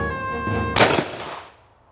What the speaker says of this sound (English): that's the easiest target I've ever shot from the hip